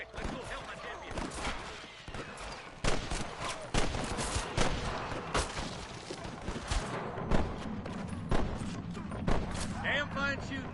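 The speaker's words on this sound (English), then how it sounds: "I can hear more gunshots." Gunfire in the Red Dead Redemption video game, a dense fusillade of sharp rifle and pistol shots cracking in rapid irregular bursts, with some heavier booming reports and voices talking over the shooting.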